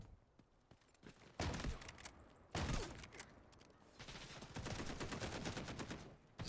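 Bursts of gunfire in the Delta Force shooter game, with sharp repeated shots in loud clusters and rapid automatic volleys running through most of the span.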